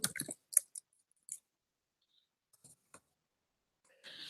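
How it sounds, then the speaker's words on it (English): Scattered clicks and taps of typing on a keyboard, close and faint, arriving in short irregular bursts separated by silences. "Let me see if I could just type this in."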